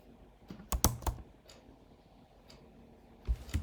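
Clicks on a computer keyboard come in short scattered bursts, a quick cluster of keystrokes followed by pauses and a few more taps, close and fairly quiet with no voice.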